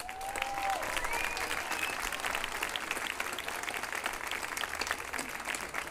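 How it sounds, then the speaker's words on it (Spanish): Crowd applauding at a political gathering in Córdoba, sustained clapping with scattered voices and a whistle, heard from a short distance at moderate level for several seconds. "un aplauso"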